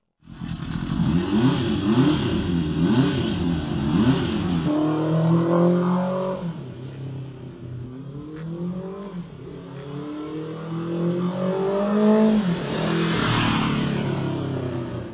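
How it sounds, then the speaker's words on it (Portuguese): Honda CB350 Four motorcycle engine running and revving steadily, loud and close, with pitch rising and falling through several throttle changes over about fifteen seconds, no voices. "O CB3504 não soa em nada como um 350. Parece uma motocicleta grande, rápida e potente."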